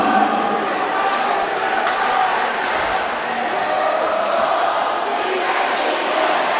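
A Kentucky home crowd in Lexington roars at the Kentucky vs Akron game, a loud, sustained mass of chanting voices filling the space with little variation.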